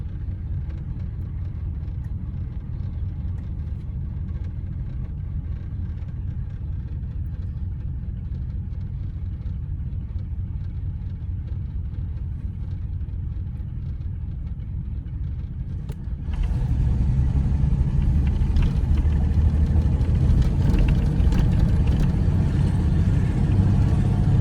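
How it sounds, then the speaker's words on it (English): A 1980 Chevy Monte Carlo with a V8 driving along, its engine a steady low rumble from inside that jumps abruptly louder and fuller partway through as it accelerates. "Obviously this car shifts so cleanly and perfectly."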